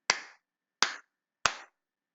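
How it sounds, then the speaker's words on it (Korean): Three crisp hand claps, evenly spaced and close, struck to trigger a sound sensor on a hobby electronics lamp, each ringing briefly into silence. "박수를 쳐보면"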